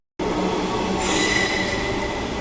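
A Perth commuter train, set 71 from Fremantle, pulls in at Platform 8 of Perth station with a loud, steady rolling rumble close by; a high wheel squeal rises partway through and carries on to the end.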